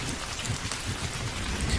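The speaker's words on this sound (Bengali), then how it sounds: "এ হলো কালবৈশাখী ঝড়, এত সহজে থামার নয়।" Heavy nor'wester rain pours down steadily beside a roadside tea stall at night, a dense continuous roar with low thunder rumbling underneath, close and loud with no voices.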